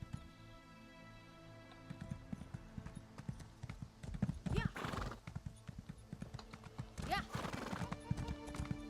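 Rapid hoofbeats drum in a galloping rhythm in the game Elder Scrolls Online, with a horse neighing twice along the way over a soft musical background.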